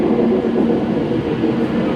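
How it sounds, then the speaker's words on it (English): A Virgin Pendolino Class 390 electric train pulls into Carlisle station on the West Coast Main Line, giving a steady, loud rumble and rolling roar that fills the whole clip with no voices. "now arriving in is the 1311 Virgin Pendolino service to London Euston"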